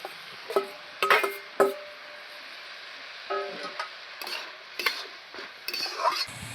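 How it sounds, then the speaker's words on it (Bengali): Fried potatoes go into a pan of fish curry, with a low sizzle under scattered clinks and scrapes of a spoon against the pan, close and fairly quiet. "এবার আমি ভেজে রাখা আলুগুলো দিয়ে দেবো।"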